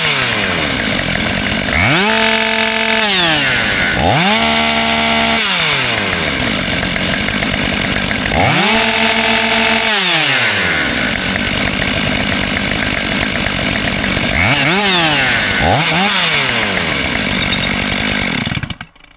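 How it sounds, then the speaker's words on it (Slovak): A modified Husqvarna 572XP and a Stihl MS 500i chainsaw rev up and fall back repeatedly, loud rising whines climbing to a high screaming pitch and dropping, several bursts in a row, close by. "Podľa mojich uší je akcelerácia zhruba rovnaká, ale zdá sa mi, že Husqvarna je na tom o trošku lepšie."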